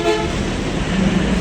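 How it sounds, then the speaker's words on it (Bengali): A car horn gives a loud, sustained close blast over rumbling road traffic noise. "গাড়ির হর্ন তো এখানে এসে একটা দিবেই।"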